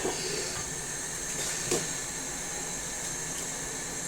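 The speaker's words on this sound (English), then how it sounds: "I'm just going to switch on the gas and allow that to come to a boil" A gas stove burner is switched on under a pot of water for zobo drink, giving a steady close hiss with a faint click near the start.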